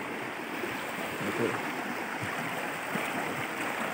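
An upper-reach river stream flows over large volcanic rocks, giving a steady, moderately loud rushing and burbling wash from nearby, with a brief spoken word over it.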